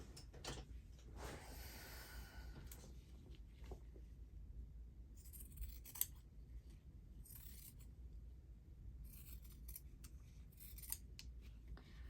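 Scissors snip through paper while trimming a piece for a handmade notebook cover, a series of soft close crisp cuts with quiet pauses and faint handling rustles, no talking.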